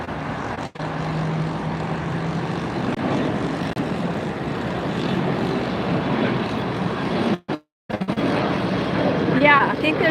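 Boeing 787 Dreamliner taxiing for departure at LAX, a broad steady jet engine rumble and whine from a distance, with wind buffeting, brief dropouts and people talking over it.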